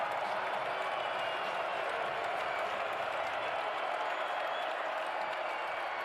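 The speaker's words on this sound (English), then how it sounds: "The crowd that stayed is making some noise." Steady, roaring crowd noise from a college football stadium during a Missouri State at North Dakota State game, a constant wash of distant cheering and murmur that never lets up.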